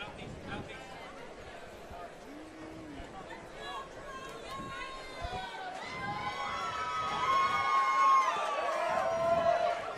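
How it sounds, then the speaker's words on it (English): Crowd at an amateur fight event, Aries Fight Series 20, cheering and shouting in a noisy hall, with the roar swelling louder over the final seconds and voices talking throughout. "crowd is appreciating this"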